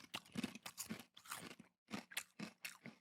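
Crunchy crisps being bitten and chewed close to the mic during a podcast recording, a run of loud, irregular crunching bursts with short pauses between bites, no talking.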